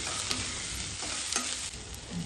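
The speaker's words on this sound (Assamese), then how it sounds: "2টা ডাঙৰ চাইজৰ পিঁয়াজ মিহিকৈ কাটি লৈছোঁ আৰু তেলত অকণমান ৰঙচুৱা হোৱালৈকে ভাজিম" Chopped onions, ginger and garlic fry in hot oil in a pan, crackling and sizzling continuously up close while a spoon stirs and scrapes through them, with no talking.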